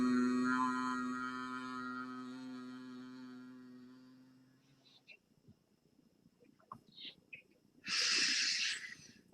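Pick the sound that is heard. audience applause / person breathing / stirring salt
person breathing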